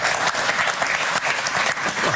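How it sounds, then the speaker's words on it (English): An audience claps warmly, a dense continuous applause that holds at even loudness throughout. "Very generous crowd to be clapping that"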